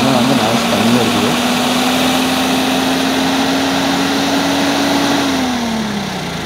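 A Swaraj 969 FE 4WD tractor's 70 hp CRDI diesel engine idles loudly and close by, a constant low hum and rumble that dips slightly in pitch near the end.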